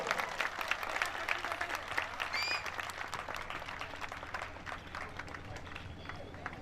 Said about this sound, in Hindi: जोरदार तालियों से आप लोग इस प्रोग्राम के शुभारंभ का